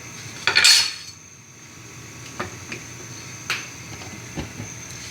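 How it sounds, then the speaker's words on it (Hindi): Chopped bottle gourd goes into a pot of vegetables cooking in oil, giving a short burst of sizzle and clatter, followed by quieter scattered clinks of a spoon against the pot. "अपनी लौकी डाल दी,"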